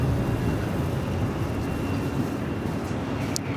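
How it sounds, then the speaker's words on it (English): A Boeing 787-9 Dreamliner at Los Angeles International Airport, a steady, broad jet roar at moderate distance that holds evenly throughout with a faint high whine. "It's a flight heading back to Token Rita on that 787-9 Dreamliner"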